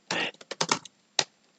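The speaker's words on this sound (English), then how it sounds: "let me type the same code." A command typed on a computer keyboard in a Kali Linux terminal: a quick cluster of crisp, close keystrokes followed by a pause and one final firm key press, heard alone in a quiet room.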